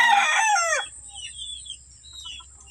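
A Sweater Gilmore gamefowl rooster gives one loud, close crow lasting under a second, followed by a quiet stretch with soft low rumbling and faint distant bird chirps.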